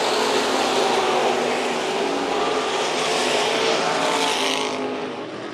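Modified race cars circle Tucson Speedway in a loud, continuous engine roar that holds steady, then eases slightly as the pack pulls away near the end.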